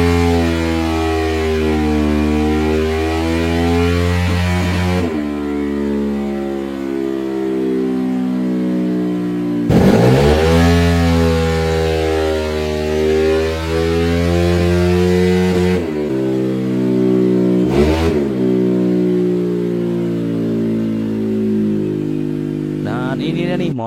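A bored-up Honda Vario 150 scooter engine runs on a dyno after ECU tuning and 11-gram roller changes, revving loudly through repeated rising pulls with brief drops in between, close and continuous throughout.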